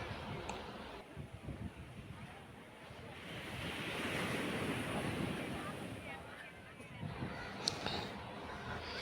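Sea surf breaking at Pulluvila beach, right beside a church during a Good Friday celebration, a steady broadband wash that swells in the middle, with wind buffeting the microphone and faint voices in the background.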